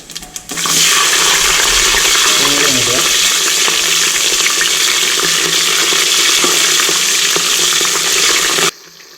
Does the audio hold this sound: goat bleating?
no